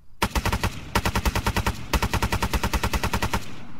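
A bullpup assault rifle in Arma 3 fires 5.8mm rounds in three fully automatic bursts of rapid, evenly spaced loud shots, each separated by short pauses.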